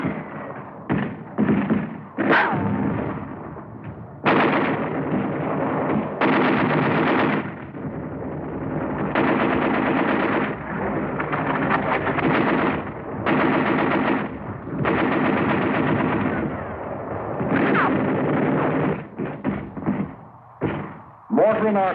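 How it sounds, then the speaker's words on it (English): Automatic gunfire from WWII pillboxes in battle at San Pietro Infine, with rapid bursts and heavy thuds sounding nearly continuously over a dense, rumbling battlefield din, while a narrator speaks over it. "automatic fire from pillboxes"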